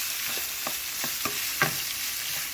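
Sliced beef frying in oil for beef and broccoli while being stirred, a constant sizzle broken by repeated spatula scrapes and clacks against the pan.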